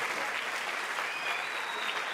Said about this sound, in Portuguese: Uma salva de palmas para o nosso